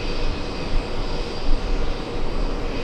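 JetBlue flight 1009, a jet airliner at JFK, gives off a steady, fairly loud engine rumble and whine that holds level throughout the short stretch, with no speech.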